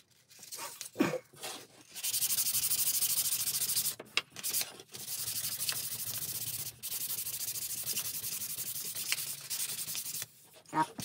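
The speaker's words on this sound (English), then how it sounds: "So I sand it, complete sand it, both of them, 400, 800, then I've got to 2000." Sandpaper rubbed by hand over a wooden dovetail box, starting at 400 grit: a couple of brief scrapes, then long, steady rasping passes lasting several seconds each with short breaks between, close and fairly loud, no speech.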